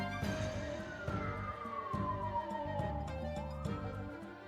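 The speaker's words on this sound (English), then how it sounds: "Like I am discovering an ambulance coming by." An ambulance siren passes by in the Ace Attorney: Dual Destinies courtroom game, its wail gliding steadily downward in pitch as it goes, loud and continuous over a steady backdrop of game music.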